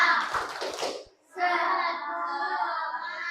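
A school class performs a rhythmic cheer clap, a short patterned burst of hand claps lasting about a second, followed by children's voices chanting together.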